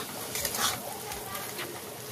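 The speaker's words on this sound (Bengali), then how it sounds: "তো এইভাবে আমি নাড়াচাড়া করে রান্না করে নেব" Lote fish jhuri with ginger, garlic, onion and spices stirred and fried in a pan: a continuous soft sizzle with scraping strokes of the spatula, the loudest near the start, fairly quiet overall.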